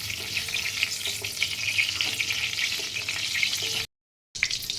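Whole garam masala spices, green cardamom, cloves and cinnamon, frying in hot oil for tempering, giving a steady close crackling sizzle with small pops that cuts off briefly near the end.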